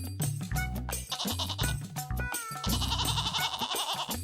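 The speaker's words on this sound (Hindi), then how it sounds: "आपके पीछे बकरी" Goats bleat repeatedly in a rural village setting, several loud, wavering cries following one another closely and heard clearly up front.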